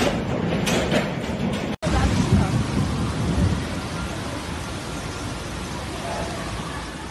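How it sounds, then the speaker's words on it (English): A thunderstorm with heavy rain and giant hailstones sweeps across Germany during Storm Lambert, giving a loud, steady roar of downpour with low rumbling beneath and one brief dropout early on. "areas of Germany have been hit with thunderstorms and giant hailstones"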